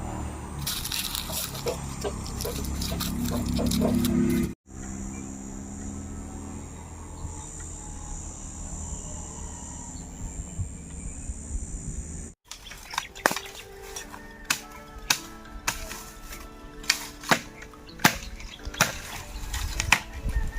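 Onions being sliced with a dull kitchen knife for pickled onions, the blade tapping a cutting board in a series of sharp knocks, louder and more regular toward the end, with background hum and crickets.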